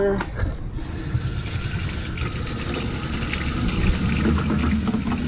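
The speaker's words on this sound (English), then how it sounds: "go to the nearest faucet, which this one will be the kitchen faucet. Let's go ahead and run some water." Kitchen faucet in an RV travel trailer running water during winterizing, a steady splashing stream into the sink with a pump-like hum, heard close under someone talking.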